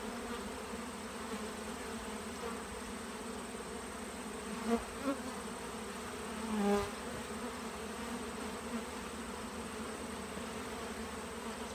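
Honey bees buzz steadily at hive boxes in a bee yard on the edge of an apiary, a continuous droning hum with a few louder passes near the microphone, and a person briefly murmurs.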